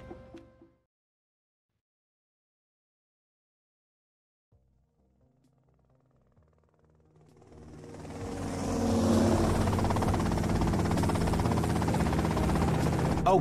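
A helicopter in Grand Theft Auto Vice City spins up from near silence into a steady loud rotor and engine roar that builds over several seconds and then holds, with no talk.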